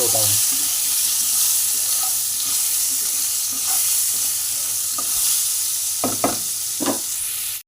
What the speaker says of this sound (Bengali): এইভাবে ভেজে তুলে নেব কুমড়োটাও